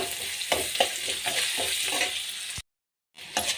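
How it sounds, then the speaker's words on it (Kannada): Onions fry in a hot pan with a steady bright sizzle and occasional stirring scrapes, loud and close, broken by a brief silent gap before the sizzling resumes. "ನೋಡಿ, ಈರುಳ್ಳಿ ಫ್ರೈ ಆಗಿದೆ."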